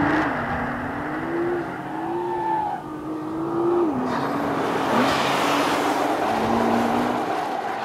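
A 2014 Nissan GT-R Track Pack driving, its engine a loud, steady drone that rises and dips in pitch through shifts and changes in throttle, with wind and road noise throughout.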